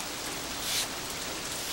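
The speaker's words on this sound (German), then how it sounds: "aber es regnete immer weiter." Steady rain falling, a dense, even hiss of drops on a surface with no voices, constant and moderately loud throughout.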